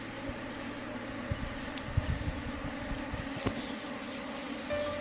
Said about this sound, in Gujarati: આ રીતે મધમાખી અંદર જાય છે મિત્રો।